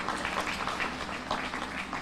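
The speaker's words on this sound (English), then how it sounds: "Let's give another round of applause for everybody." Continuous audience applause at a children's museum reopening ceremony, a steady dense clatter of many hands lasting the whole two seconds, moderately loud with no break.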